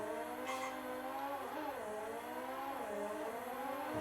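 Racing cars in an Amiga CD32 video game: steady, buzzy synthesized engine drone with pitch sweeps as the cars brake and slow, heard alone and fairly quiet.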